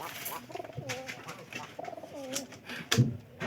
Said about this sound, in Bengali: পায়রা দেন খুবই এই জায়গাতে আছে